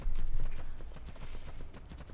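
Horse hooves clip-clop in the Dark and Light video game, a quick, even run of close, light thuds that fades slightly toward the end.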